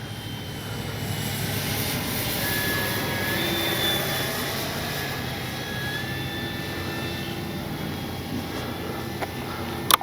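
A Flightline 1600mm P-51D Mustang RC plane flies a landing approach, its electric motor whining steadily at moderate distance, with a brief click near the end.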